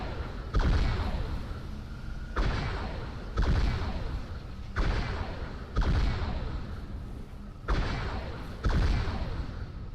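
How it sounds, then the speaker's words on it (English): Heavy trip mine explosion booms fire from a modded Phantom dropship in Halo 3, six loud deep blasts at roughly even intervals, each with a rumbling decay and no talk. "It's using the trip mine explosion."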